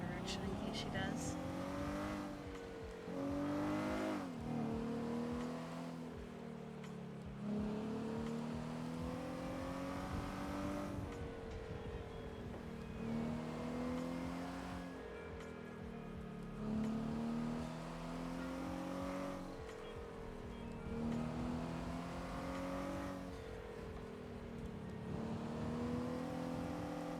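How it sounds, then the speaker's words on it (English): A video-game car engine revs up and down in repeated surging waves, its droning pitch rising and falling over and over at low volume. "I think the sound of my car freaked that guy"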